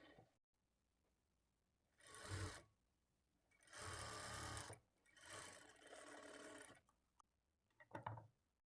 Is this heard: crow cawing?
no